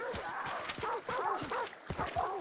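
A horse in a Crytek video game moves with rhythmic clip-clop hoofbeats and snorting or whinnying calls, repeating several times at moderate distance under a faint game backdrop.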